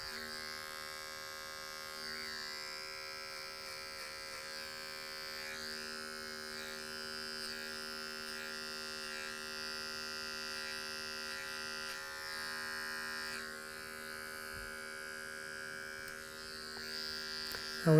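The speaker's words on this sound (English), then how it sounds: "with your adjustable clipper, if you have to, if you see a heavy spot," Adjustable electric hair clipper buzzing steadily while cutting hair over a comb during a low fade, a continuous close hum with slight shifts in tone.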